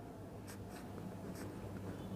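A pen scratches across paper as a math question is written out, making close, quiet strokes with short lifts between them over a low steady room hum.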